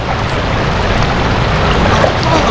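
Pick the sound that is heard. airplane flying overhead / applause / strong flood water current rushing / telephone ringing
strong flood water current rushing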